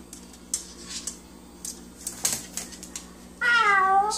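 Cat in a home gives one clear drawn-out meow near the end, after a stretch of scattered clicks and light tapping sounds.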